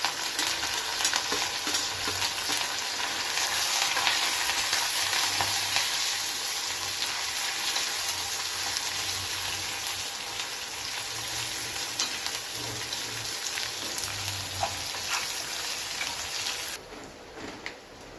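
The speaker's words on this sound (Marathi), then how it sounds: "बारीक चिरलेला लांब कांदा आपण इथं टाकतो लालसर असा परतून घ्यायचा आहे" Chopped long onion sizzles steadily in hot oil with a pinch of asafoetida, a continuous close frying crackle with occasional stirring scrapes and no talking.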